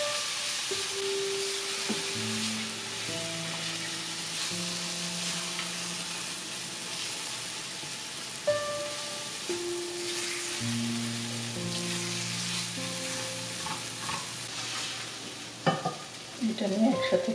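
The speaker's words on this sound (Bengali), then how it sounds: "এবং সরিষা বাটার সাথে দিব লবণ। একসাথে এটাকে ভেজে নেব।" Tomato mashed with mustard paste and salt frying in a pan, with a steady sizzling hiss and a spoon scraping and stirring throughout, close and continuous, with no talking.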